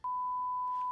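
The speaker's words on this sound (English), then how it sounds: "Now, our old censor beep sounds like this." A TV-style censor beep: one steady, pure electronic tone held for nearly a second, loud and alone with no talk, ending abruptly.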